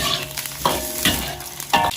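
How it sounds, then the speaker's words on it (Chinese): Scallion, ginger and garlic stir-fry in a generous pool of hot oil, with a loud, close crackling sizzle and several sharp bursts as the wok is stirred. "锅中加入宽油，加入葱姜蒜爆香"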